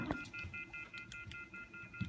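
Landline telephone button beeps sound as a quick series of short electronic tones, faint and close, with small clicks between presses.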